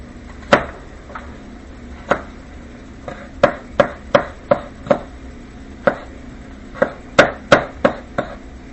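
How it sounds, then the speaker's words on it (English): A dull knife chops vegetables on a cutting board in sharp, close, irregular thuds, about fifteen strikes in uneven bursts with short pauses between them. "It's kind of dull, but it's cutting veggies okay."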